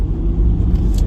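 Car engine rumbling low and steady from inside the cabin while driving at night in New York City, constant and fairly close.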